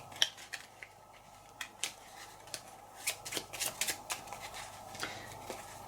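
Playing cards from a 30-card deck for the Châteaux de fable solo board game are handled and drawn, giving a run of soft, close papery flicks and snaps spread unevenly over several seconds with no talking.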